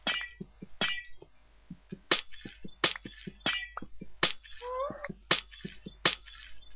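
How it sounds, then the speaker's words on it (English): A Minecraft block breaking under a sword, a rapid series of sharp glassy clinks and shattering ticks in uneven bursts, with soft lower thuds between them. "Why does it make sound of glass?"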